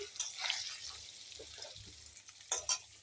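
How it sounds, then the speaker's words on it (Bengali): Homemade paneer frying in hot oil in a home kitchen gives a faint, uneven sizzle with scattered crackles and stirring scrapes, with sharper spatters bursting out near the end. "তেল গরম হয়ে গেছে পনিরটা ভাজতে ভাজতে"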